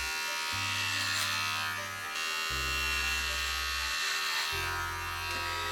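Electric hair clippers shaving a head for a charity head-shave give a close, steady buzz whose pitch drops and shifts in three distinct stretches as the blade meets hair. No talking.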